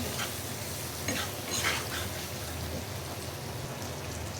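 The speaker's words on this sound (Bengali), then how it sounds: "এইভাবে অনেক সুন্দর মতন ডিম ভাজা হয়, পেঁয়াজও ভাজা হবে" Eggs and onions fry in a pan with a soft, continuous patter of sizzling oil, like light rain, and a couple of louder stirring scrapes midway.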